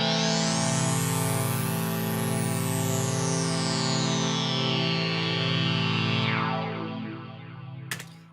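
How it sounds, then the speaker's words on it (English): OB-Xd synthesizer plays detuned sawtooth waves shaped by a filter envelope and sent through delay and reverb: a loud sustained chord with a sweeping filter that rises and falls, then fades into echoing tails ending with a sharp click. "I'm sending that to a delay and a reverb. But basically, it's just a filter envelope."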